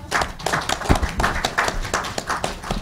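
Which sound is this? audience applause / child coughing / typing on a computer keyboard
audience applause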